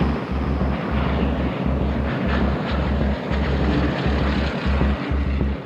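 A vast formation of around 300 enemy propeller aircraft heading toward Kent in 1940 makes a steady, loud droning roar with a pulsing low throb, with no voices over it.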